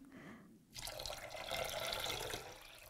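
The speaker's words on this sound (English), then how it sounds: "I use half a cup of oats in the saucepan with 2 cups of water." Water poured from a container into a saucepan holding half a cup of oats, starting abruptly after a quiet moment and continuing as a steady splashing, bubbling pour, near and fairly soft.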